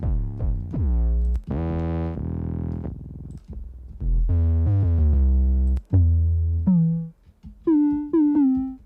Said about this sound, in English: gritty style bass sounds